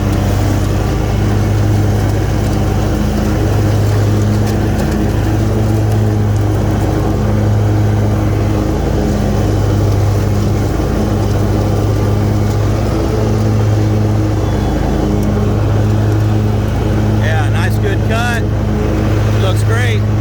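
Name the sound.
Hustler X-ONE 60 inch zero turn riding lawn mower running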